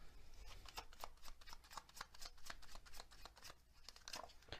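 Tea leaf oracle cards are shuffled by hand in a steady run of soft, crisp riffling flicks, close and quiet, with no talking over them.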